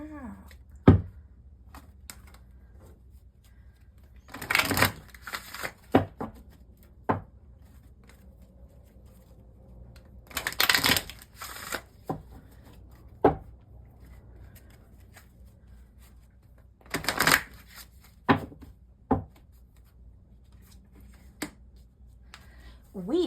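Repeated bouts of tarot card shuffling, crisp riffles separated by quiet stretches and occasional soft taps, recorded up close.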